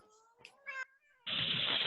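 A roommate's cat gives a few short, close meows, then a burst of broadband noise follows. No one speaks over it.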